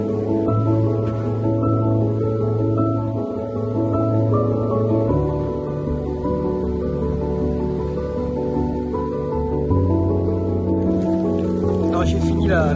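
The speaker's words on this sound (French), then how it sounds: "ça pleut maintenant." Rain falling along a seaside stretch of the Camino del Norte pilgrimage trail, a steady dense patter on surfaces lasting throughout at moderate level, with a low continuous tonal hum underneath.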